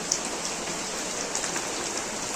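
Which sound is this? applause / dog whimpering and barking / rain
rain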